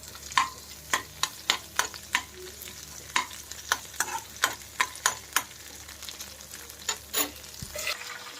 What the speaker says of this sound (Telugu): కొంచెం చింతపండు అండి, అది కూడా వేసి దీంట్లో ఫ్రై చేయాలి.